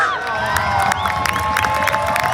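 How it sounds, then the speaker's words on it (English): A crowd at a football club gathering cheers and whoops, with some clapping. The sound is loud and lively for a couple of seconds, and high shouts and whistles rise above the general noise. "please give a round of applause to my parents"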